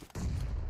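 Gunfire in PUBG Mobile arrives as a sudden, dense burst of shots that fills the short moment with sharp, loud crackle after a brief quiet lead-in.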